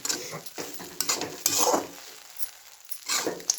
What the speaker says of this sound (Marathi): आई वरून थोडंसं मीठ ॲड करत आहे आणि ते पुन्हा सगळं व्यवस्थित हलवून घेत आहे